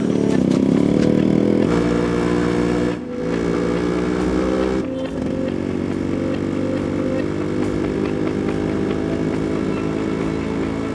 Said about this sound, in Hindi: मेरी बाइक।